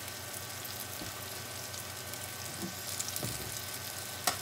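Salmon pan frying in oil, a soft steady sizzle with a few light clicks and taps of a utensil near the end, close by and without talking.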